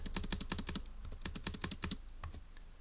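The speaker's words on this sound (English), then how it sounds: "let's go ahead and type that up and review it" Brisk, evenly paced clicks from a computer keyboard as a puzzle answer is typed, a close burst of keystrokes that trails off into a few final taps.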